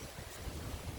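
Strong typhoon wind during Typhoon Kristine in Bohol buffets the microphone in a brief, faint, continuous rumbling gust with no voices.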